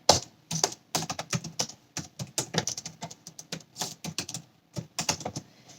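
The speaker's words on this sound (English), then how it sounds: "Yes, I'm a very slow typer." Someone types slowly on a computer keyboard, the close, clicky keystrokes arriving in irregular bursts with short hesitations between them, and no voices.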